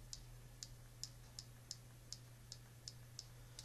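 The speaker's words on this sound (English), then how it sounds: "So if you want to move up, you have to keep clicking that." Button on an Innokin iTaste MVP 2 vape mod pressed repeatedly, about ten small sharp clicks in an even rhythm, close and quiet over a low hum.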